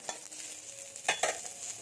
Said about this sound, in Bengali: এরপর আমি আলু দিয়ে দিলাম, আলুটাও একটু হালকা করে ভেজে নেব।